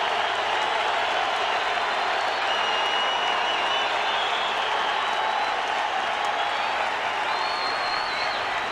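Big crowd at Angel Stadium applauding and cheering as pitcher Roger Clemens leaves the game during the 2006 World Baseball Classic USA versus Mexico, a broad sustained roar of clapping and crowd noise filling the ballpark with a faint voice under it.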